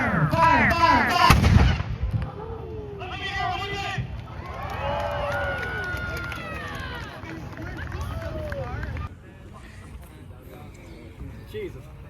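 Artillery guns firing at a Tracks and Wheels military vehicle event at the Planes of Fame Museum in Chino, California: loud booming blasts up front followed by rumbling echoes, with shouting and crowd voices throughout.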